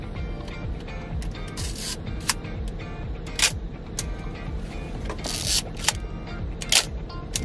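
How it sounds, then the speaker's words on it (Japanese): A Konica Autoreflex-T film SLR with a Copal Square shutter fires repeatedly, sharp mechanical clacks spaced irregularly over a low background hum, close and loud. "ガチャコーンって音がしますね。まあ、コニカのね、一眼レフカメラ、この当時のモデルは大半がこういうね、コパルスクエアのガチャコーンって音になるんですけどもね"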